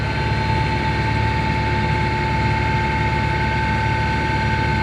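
Boat engine running steadily on a trip from Rogers City toward Trails End Bay, a continuous loud low drone with a steady hum and no talk over it.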